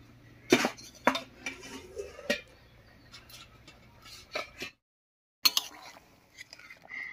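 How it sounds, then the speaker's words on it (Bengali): A metal lid lifted off a pot of simmering fish curry with cauliflower and potato clinks and knocks several times in short bursts, followed by a brief silence and more clatter. "এবারে ঢাকাটা তুলে নেব"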